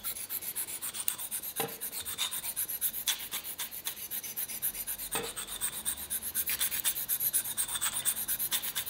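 Vegetable peeler blade rubbed back and forth on a fine sharpening stone, a fast, even rasping rhythm of many short strokes, close and steady with occasional sharper ticks, no voices.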